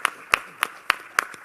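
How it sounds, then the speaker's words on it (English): A handful of sharp, evenly spaced claps from an audience at a business summit meeting, roughly six distinct hand claps over a second and a half, moderately loud and fairly close, with no cheering. "that's applause for yourselves"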